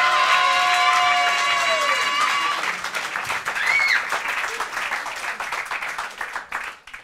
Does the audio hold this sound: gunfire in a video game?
no